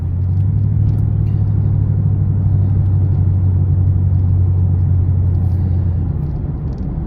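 A Pontiac G8 GT drives along a road after a starter replacement, its engine a deep steady low rumble close by that fades slightly at the end, with no talking.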